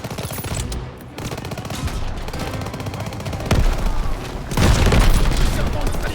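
Gunfire and explosions ring out in Call of Duty WWII during Operation Cobra, with dense battlefield shooting and booms, louder bursts near the end, and voices calling out beneath the combat.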